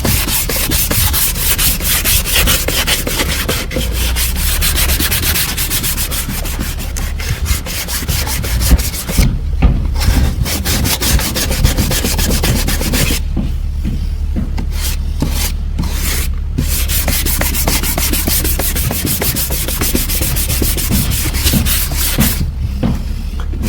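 A plastic-welded car bumper repair being sanded by hand, continuous close scratchy rubbing strokes with brief pauses, loud and alone.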